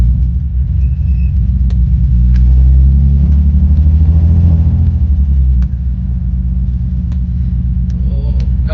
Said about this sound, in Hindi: बहुत वियर्ड साउंड कर रही है गाड़ी,